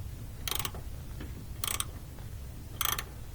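An emergency brake cable adjuster on a GMC Yukon is tightened, giving three short, distinct ratcheting clicks spaced about a second apart over a low steady background hum, close and fairly quiet.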